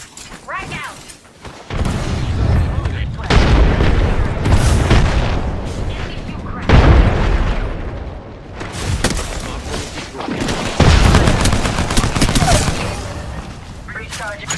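A frag grenade detonates in Apex Legends ranked play amid other gunfire and blasts, sharp booming bursts with crackling debris, loud and close, while a player talks over the fighting.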